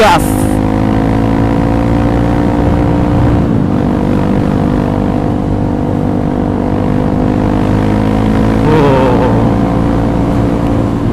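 A 2021 Honda CRF trail motorcycle with an aftermarket exhaust, ridden on pertamax fuel, its engine droning steadily and loud with rising revs, accompanied by wind noise and a rider talking over it.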